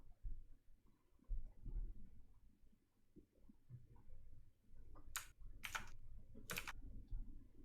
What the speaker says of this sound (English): Oh, some typing.